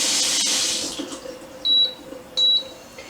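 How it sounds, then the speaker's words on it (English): Boiled potatoes drained into a kitchen sink, a rushing pour of water fading out, followed by two short electronic beeps. "my potatoes are fork tender. I'm gonna drain them."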